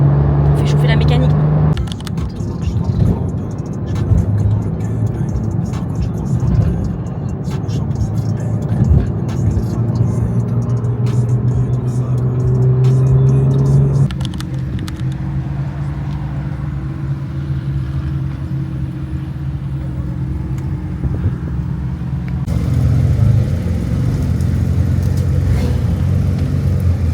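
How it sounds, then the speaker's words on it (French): Engines idling and warming up at a supercar gathering in Mauritius, including an AC Cobra replica, a Porsche Macan GTS and a Cayman, a steady low rumble with tonal hums shifting over time, with talk throughout. "On fait chauffer la mécanique."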